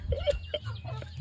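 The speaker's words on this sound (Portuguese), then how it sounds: "Tá com medo do frango?" A chicken clucks up close in a henhouse, a few short, uneven clucks in quick succession over a low background rumble.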